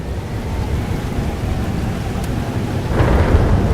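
Thunderstorm in the video game Life is Strange: Double Exposure, a steady wash of rain with low rumbling thunder that swells louder near the end, heard alone.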